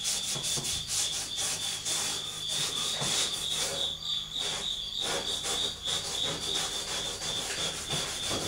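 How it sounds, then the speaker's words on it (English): A rag soaked in lacquer thinner is scrubbed steadily over latex paint on an old Hoosier cabinet, giving a continuous close, raspy rubbing with rhythmic strokes and no pauses or voices. "when you start rubbing this lacquer thinner on"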